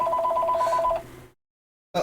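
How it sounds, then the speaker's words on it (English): An indoor telephone rings once with a bright, warbling electronic tone for about a second, then fades into silence before a brief noise returns at the end. "Let's see what that is, because that's the phone."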